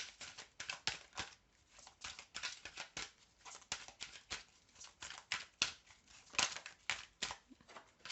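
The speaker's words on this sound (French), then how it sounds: "je tire 3 cartes et vous choisissez une carte parmi les 3" Tarot cards drawn from a deck and laid down, giving soft, quick papery flicks and slides in an irregular patter, close and quiet, with no talk.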